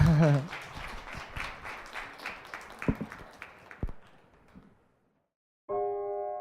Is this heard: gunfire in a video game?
no